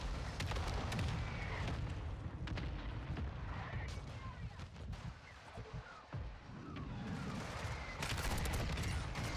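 A mortar strike in a Modern Warfare 2 online match lands as heavy booms and rumbling blasts within dense battle noise. Gunfire continues throughout, and the barrage stays loud and close with only a brief dip near the middle.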